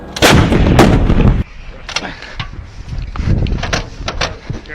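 An M777 light towed 155mm howitzer fires with a single loud, close blast that rolls on for about a second, followed by quieter clanks and movement from the gun crew.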